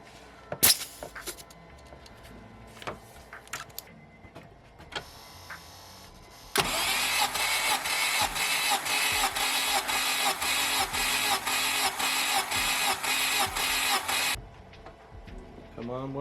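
The starter cranks a 2007 Honda Civic Hybrid dual spark plug engine during a compression test, a steady rhythmic whirring with regular pulses for about eight seconds, loud and close, after some handling clicks and brief talk.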